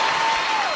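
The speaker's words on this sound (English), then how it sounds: "It's not the loop till hand clapping happens." Dense applause from an audience, steady and loud throughout, with a faint tonal whine gliding downward near the end.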